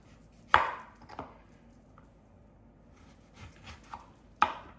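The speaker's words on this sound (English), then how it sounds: "Cut the lemon." A knife cuts through a lemon on a board, a few sharp close chopping thuds spaced over a few seconds with quiet gaps between, no talk.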